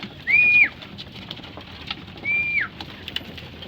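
Racing pigeons give two clear, fairly loud calls a couple of seconds apart over a busy outdoor background of scattered chirps and rustle, with no distinct sound of birds landing.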